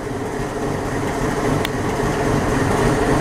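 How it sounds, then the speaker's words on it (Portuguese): A new GE ES43BBI locomotive idles at the Rolândia train station in northern Paraná, Brazil, its loud, steady diesel rumble droning continuously with a brief metallic click partway through. "Pela primeira vez eu tô filmando essa locomotiva nova aí, ESBBI da GE."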